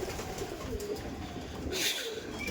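Pigeons, including Madras pigeons, coo softly in a loft, a faint low murmuring call under quiet background noise, with a brief brighter rustle near the end.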